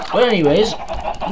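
Chickens clucking in the Minecraft video game, a short run of wavering, warbling clucks played loud and close while someone speaks over them.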